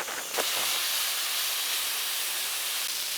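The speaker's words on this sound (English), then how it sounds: "I'm gonna add my asparagus. I'm just gonna dump it in." Asparagus sizzling loudly in butter in a hot pan on the stove, a steady broad hiss running the whole time after a brief clatter at the start.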